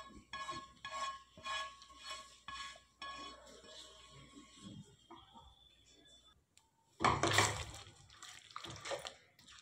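Fried chicken being mixed into chicken changezi gravy: a series of quiet spoon clinks against a pot, soft wet stirring, then a louder burst of metal scraping and clatter near the end.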